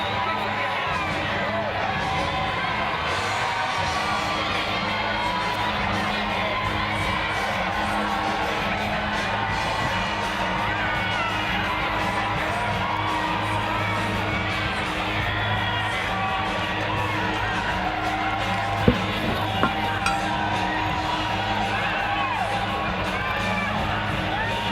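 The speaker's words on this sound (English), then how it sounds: "the crowd goes wild" A roller derby crowd at a season finals bout roars and cheers steadily and loudly throughout the indoor venue, a dense wall of voices with scattered whoops and a few sharp bangs near the end.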